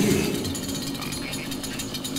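In the video game DOOM, a chainsaw cuts through a demon, giving a loud, harsh, grinding mechanical rattle with rapid choppy pulses that runs the full length of the clip. No voices are heard.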